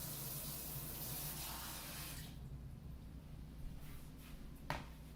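Water is poured from a tap-like stream into blueberry pancake batter, a steady rushing splash for about two seconds that stops abruptly, followed by a quiet room with a few faint clicks.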